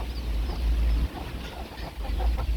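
Backyard chickens from a home flock of nearly a hundred birds cluck in short, scattered calls under a steady low rumble of background noise.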